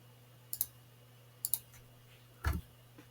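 A computer mouse gives three sharp, close clicks spaced about a second apart in a quiet room, the last one slightly heavier.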